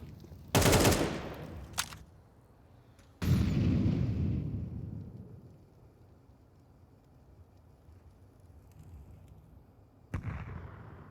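Bursts of AK rifle fire in Counter-Strike during a competitive match, a loud rapid volley followed by a sharp shot, another heavy burst trailing off, and a final burst near the end, with no talk.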